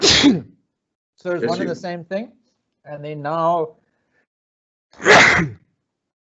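A sharp sneeze bursts out at the start, people talk briefly, and a second forceful sneeze comes near the end.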